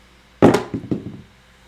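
Dice tossed onto a craps table land with one sharp clatter, then tumble and bounce a few more times in quick succession before settling, close and clear with no talk.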